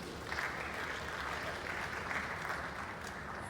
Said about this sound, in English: Give yourselves a round of applause once again.